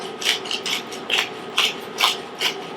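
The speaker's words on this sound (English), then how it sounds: "freshly ground black pepper" Black pepper cracked from a grinder over raw lamb chops, a close, gritty rasping that repeats in about seven short even twists, with no talk.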